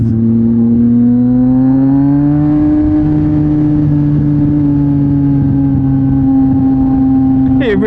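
Close, loud engine drone from a Yamaha MT-09 with an aftermarket Mivv X-M50 exhaust, rising slightly then holding a steady revving tone for eight seconds, with a short voice near the end.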